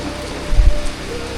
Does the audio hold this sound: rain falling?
yes